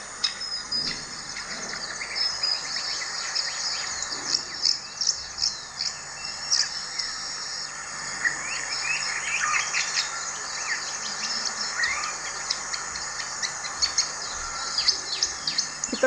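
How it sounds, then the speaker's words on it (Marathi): A long-tailed shrike gives a run of varied, scratchy chirps and whistled notes, moderately distant, over a steady bed of cricket trilling that continues throughout. "पण तो लॉंग टेल स्ट्राईक आहे"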